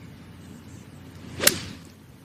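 A single crisp, sharp strike of a golf club on a ball on a tee shot at a professional women's tournament, rising out of quiet outdoor ambience and fading quickly.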